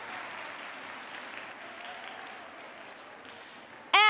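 Audience applause at a We For She event, fairly faint and even, fading slightly, ending in a short sharp burst at the close.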